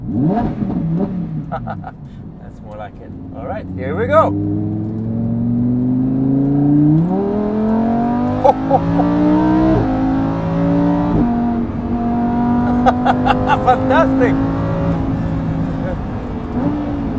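A Lamborghini Huracan Evo in sport mode revs and accelerates hard, its engine note climbing through gears with loud, rising whine under a driver's excited commentary.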